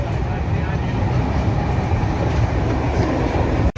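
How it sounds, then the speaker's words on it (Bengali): The Sai Nagar Shirdi–Howrah Superfast Express (22893) runs at full speed, heard from inside as a loud, continuous rumbling roar of wheels and carriage noise with no breaks. "তো বন্ধুরা আমাদের ট্রেনের স্পিড তুলে দিয়েছে একদম।"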